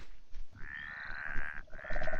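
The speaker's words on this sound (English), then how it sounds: "Come here, toads." Toads in a Minecraft modpack give drawn-out, buzzing croaks, two sustained calls separated by a short gap, moderately quiet and heard over soft background clicks and rustling.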